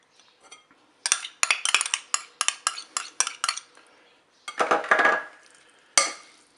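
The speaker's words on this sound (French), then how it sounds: "Je vais commencer à mélanger." Utensil scraping and clinking against a dish while crumbled mackerel is stirred together with sauce, a quick rhythmic series of sharp taps, a pause, then a longer scraping burst and one final clink.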